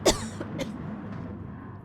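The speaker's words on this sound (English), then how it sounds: "I seem to be coughing quite a bit" A single sharp cough from a motor racing commentator sounds close and abrupt at the start, followed by a smaller second burst and then quiet background.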